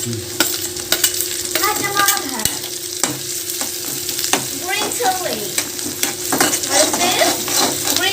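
Green chili and onion stir-fry in coconut oil in a pan for a carrot and egg thoran, a loud, close sizzle under repeated scraping and clinking of a spatula against the metal.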